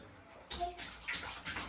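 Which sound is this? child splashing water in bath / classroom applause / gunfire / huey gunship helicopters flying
child splashing water in bath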